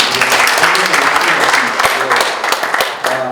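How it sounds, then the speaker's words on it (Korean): Audience applause at a Korean National Assembly policy seminar on suicide prevention, a dense steady clapping from a seated crowd that carries through the whole moment with some scattered louder claps. "박수 한번 쳐드리죠"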